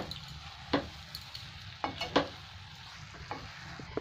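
Carrot halwa with sugar and khoya is stirred in a pan, with a soft background sizzle broken by occasional sharp scrapes and knocks of the spoon, close and unhurried.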